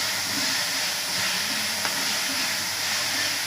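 Ginger and green chili paste fries in a couple of spoons of refined oil in a pan, giving a steady, loud hiss and sizzle that runs unbroken throughout.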